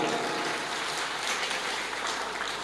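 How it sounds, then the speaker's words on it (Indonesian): An audience at an Islamic lecture about Nahdlatul Ulama applauds, a steady broad wash of clapping heard at moderate distance, continuous throughout with no voices over it. "Tepuk tangan untuk Nahdlatul Ulama."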